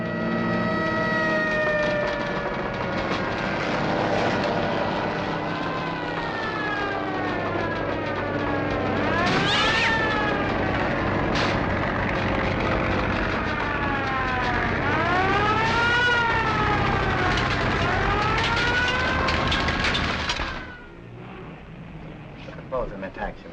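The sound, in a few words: fire engine siren from a nearby firehouse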